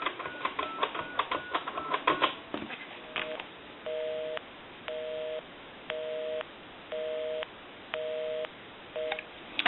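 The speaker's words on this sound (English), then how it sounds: "it dials out and it rings" A landline telephone dials out with a rapid run of touch tones, then a regular pattern of dual-tone beeps repeating about once a second, fairly faint with no talk.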